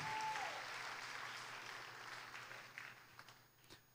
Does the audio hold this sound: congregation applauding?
yes